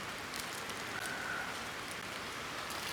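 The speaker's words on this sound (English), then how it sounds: "It's raining outside." Rain falls steadily outside a garage, making a constant soft patter and hiss at a moderate distance with no talk.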